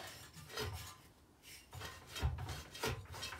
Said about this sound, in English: Back to the sandpaper now, I think.